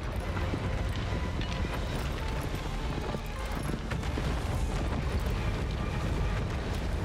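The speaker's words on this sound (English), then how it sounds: "You can indeed ride the horsey." Steady rhythmic horse hoofbeats clip-clop continuously over a dense, busy background in the video game Shadow of the Colossus, loud and close throughout.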